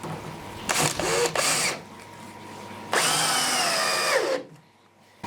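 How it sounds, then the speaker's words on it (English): Battery drill driving screws into wooden panels of a large DIY wooden aquarium, two loud bursts of whirring with the motor winding down at the end of the second, a quiet pause between, no talk. "we need a battery for the drill"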